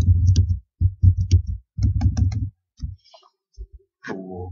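Someone types a title on a computer keyboard in short, clustered bursts of close, thumpy keystrokes separated by brief pauses, with a quieter stretch before a last flurry.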